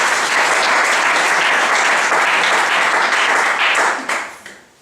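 A church congregation breaks into loud, sustained applause that fills the room evenly, then quickly tapers off into a few scattered claps at the end.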